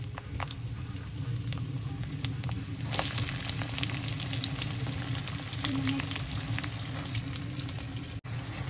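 Chopped onions fry in oil in a kadai while being stirred, a steady close sizzle with scraping stir strokes throughout and a brief clatter near the end.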